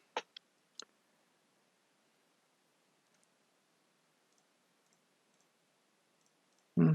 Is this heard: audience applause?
no